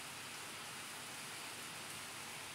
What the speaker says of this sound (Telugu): వర్షం పడుతుందండి, మాకు మధ్యాహ్నం టైంలో చాలా వర్షం పడుతుంది, పెద్ద వర్షము.